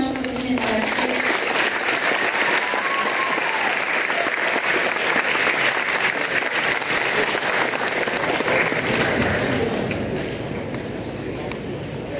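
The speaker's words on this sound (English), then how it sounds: "applause for all of those teams." Sustained loud applause from a large crowd at a school finals event, steady clapping that carries on and fades slightly at the end, with faint voices underneath.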